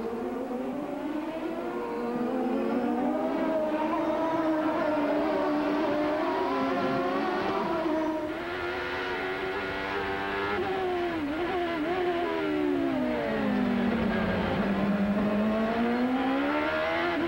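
Several 1995 CART IndyCar race cars roar around the Toronto street circuit, their engines whining loudly and continuously as pitch rises and falls through gear changes and passes, with no talk.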